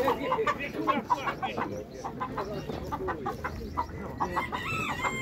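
Chickens cluck and a rooster crows amid busy farmyard noise at a livestock market in Opatów, Poland, with people talking nearby throughout.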